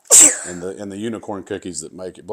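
A child gives one sharp sneeze, close and loud, right at the start, followed at once by someone talking.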